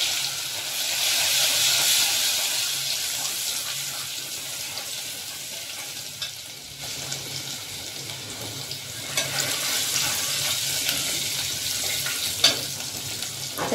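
Coarsely ground ginger garlic paste sizzles and fries in a pan for misal, a steady hissing crackle with soft scraping of stirring, close and without voices.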